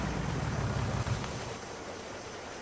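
Running water in Farming Simulator 19 after the engine is switched off on a tight country lane, a steady broadband wash that holds evenly throughout at moderate level, with no voices.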